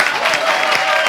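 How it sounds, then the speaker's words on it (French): Audience on a French television show applauding a guest, with a short, even wash of clapping at close range and no talking over it. "on applaudit James"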